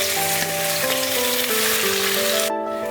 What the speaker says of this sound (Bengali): মাছগুলো যেন হালকাভাবে ভাজা হয়।